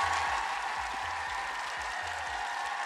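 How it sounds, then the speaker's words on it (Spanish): Applause for a guest joining a Spanish-language talk show, a steady broadband clapping wash lasting about three seconds at moderate level, with no voices over it. "Te mandamos un aplauso."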